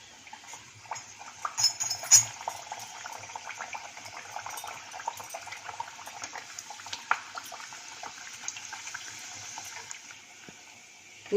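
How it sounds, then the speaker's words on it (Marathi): Puri dough frying in hot oil in a home kitchen, a steady bubbling crackle with brief louder spatters near the start, close and moderately loud, with no talking. "यामध्ये आपण आता पुरी सोडूया."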